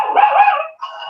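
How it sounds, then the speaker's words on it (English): A dog barks at a UPS delivery man at the door in a house: two loud, close barks in quick succession, the first longer and rougher, the second short and sharp. "My dog had a barking fit because she hates the UPS man."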